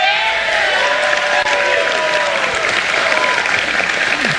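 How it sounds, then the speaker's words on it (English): United Auto Workers members cheer and applaud in the background of a speech announcing auto tariffs, a dense, continuous wash of clapping and crowd noise. "Those cheering in the background, United Auto Workers."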